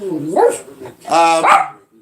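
A dog at home lets out a few close, loud barks and yelps in two short bursts, with no talking.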